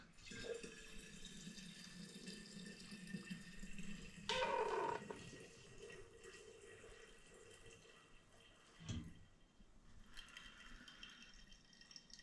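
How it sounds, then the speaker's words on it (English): Apple juice for home-brewed cider trickles and splashes faintly from a tilted container, with a brief louder gush midway and a few clunks, quiet throughout. "I'm going to tilt this forward and get that juice out."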